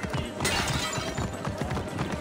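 Horse hooves clip-clopping at a steady trot in Assassin's Creed Origins, loud and continuous, with a short whinny near the start, no talk over it.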